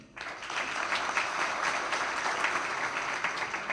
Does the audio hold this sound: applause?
yes